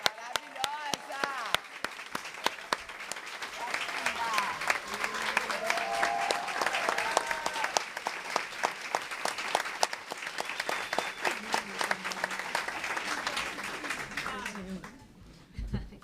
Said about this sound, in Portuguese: Eu queria que ela ficasse de pé para todo mundo aplaudir.